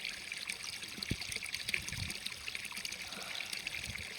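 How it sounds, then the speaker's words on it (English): Water trickles quietly and continuously in a lush green outdoor spot, a soft steady babble with faint splashes and no voices. "And just listen to the water."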